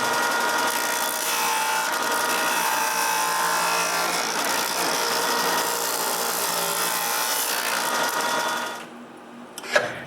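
Wood being sawn by hand to shorten the long side of a criss-cross workbench part, a steady, dense rasping stroke sound that runs continuously before stopping abruptly near the end, followed by a brief knock.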